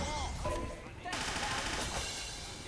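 A Heavy's minigun firing into the spawn area in Team Fortress 2 Classic, a dense continuous rattle of gunfire that starts partway in and carries on loud and close, with other game sounds mixed in.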